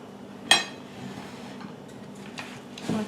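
Almond butter mixture being stirred in a bowl with a utensil, giving a sharp clink at the start, soft scraping through the middle and another light knock near the end, close and quiet with no talking.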